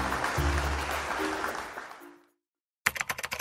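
A short burst of audience applause fades out into a moment of silence, then a few sharp, scattered claps return at the end.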